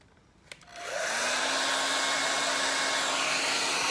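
A hair dryer drying paint on an alpaca painting switches on with a small click and whooshes up to a loud, steady blowing roar that continues close by.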